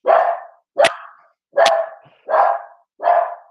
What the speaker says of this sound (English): I've got some barking going on with the dog in the background.